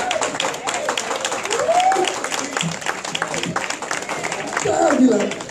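Church congregation clapping during a sermon, steady rapid hand claps running throughout with voices calling out and whooping over them.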